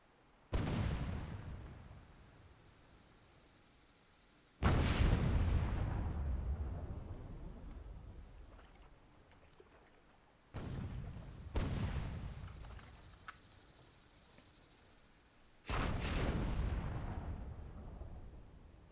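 Super cannons fire in the game Myth II Soulblighter, with four heavy, booming blasts spaced several seconds apart, each followed by a long rumbling decay.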